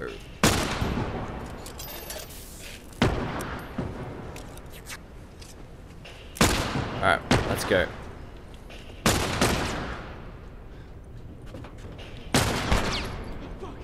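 Pistol shots in The Last of Us video game: five or six sharp, loud single reports spaced a few seconds apart, each with a short echoing tail, and a voice talks briefly in between.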